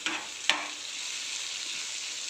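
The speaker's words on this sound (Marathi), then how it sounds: "लसूण पेस्ट मी त्याच्यात टाकतो त्याच्यानंतर कढीपत्ता" Garlic paste and curry leaves hit hot oil in a tempering for spicy dal khichdi, giving a steady broadband sizzle with a sharp crackle near the start, close and alone with no talk.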